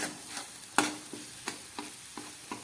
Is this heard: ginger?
yes